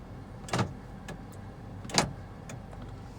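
Central locking on a 2018 Honda Civic 1.5 TC-P operates inside the car with two distinct mechanical clunks a little over a second apart, followed by a few faint clicks in a quiet cabin.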